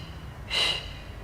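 Pregnancy Pilates instructor's single audible breath in, a short, fairly close breathy rush lasting about a quarter second in an otherwise quiet room with faint low hum.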